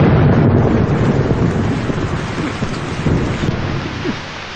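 Heavy rain with thunder, a dense loud roar of downpour with low rumbling and wind buffeting that stays strong throughout, easing slightly near the end, with no voices.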